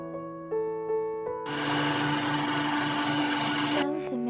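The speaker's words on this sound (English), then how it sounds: "And we continue to mix on speed 1" An electric stand mixer whirs steadily on its lowest speed while creaming sugar with a buttery mixture, a loud continuous motor drone with a high whine that starts abruptly partway through and cuts off near the end.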